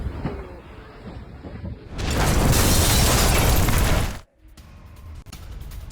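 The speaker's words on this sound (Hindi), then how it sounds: "रूस के गोला बारूद डिपो में ब्लास्ट की ये तस्वीर" Explosion at a Russian ammunition depot in Donetsk, heard as a distant blast that swells into a sustained loud roar lasting about two seconds, cut off abruptly, then faint rumbling and crackling afterward.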